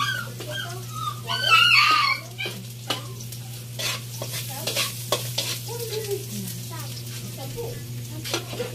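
Onion and garlic sauté in leftover frying oil with a close, busy sizzle, scraped and clattered by a spatula in quick irregular strokes, a steady low hum underneath.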